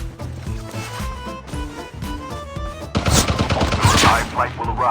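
Rapid gunfire in the Call of Duty Mobile game rattles out in dense bursts, building into a louder, continuous volley in the second half, loud and close.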